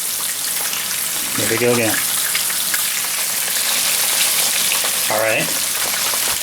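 Venison steak pieces fry in a pan of hot oil with a loud, even sizzle that runs the whole time, while someone speaks briefly twice over it.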